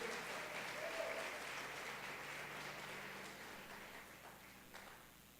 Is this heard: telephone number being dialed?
no